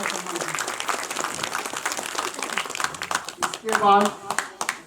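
Applause from the audience at a village temple closing ceremony for Maa Chandika in Uttarakhand, a steady patter of clapping running beneath someone speaking over a microphone.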